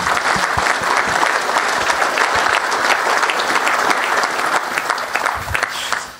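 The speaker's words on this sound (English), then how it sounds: "So also for them, a big applause." Audience applause at a Manchester United event with manager Erik ten Hag, a full, sustained round of clapping from a sizeable crowd, loud and steady with a few sharper individual claps standing out.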